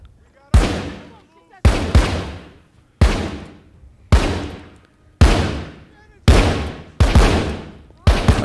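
Gunfire in The Walking Dead: Saints & Sinners, played in VR on a Valve Index: eight loud, sharp shots, each with a decaying tail, spaced roughly a second apart in a steady rhythm.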